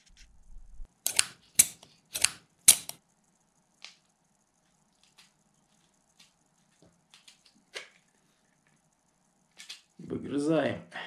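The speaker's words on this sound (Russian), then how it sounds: "И сейчас их будем вырезать при помощи ножниц по металлу." Metal shears snip cutouts for reel holders in sheet metal: four sharp crunching cuts in quick succession early on, then scattered faint clicks and handling noises, ending with a brief burst of rustling.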